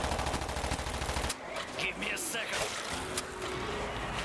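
Rapid automatic gunfire in the shooter game World War Z Aftermath, a loud dense burst that cuts off partway, followed by scattered game sounds.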